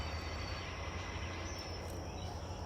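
An N scale model train running on a home layout, heard as a steady, faint mechanical rumble and whir with a thin high whine, continuous and even throughout.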